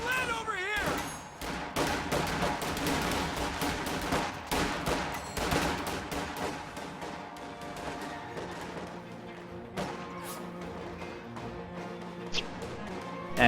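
An MG42 machine gun fires in a World War II strategy game, with repeated crackling bursts and scattered distant gunfire amid battle noise, while a commentator talks throughout.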